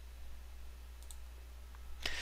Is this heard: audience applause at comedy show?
no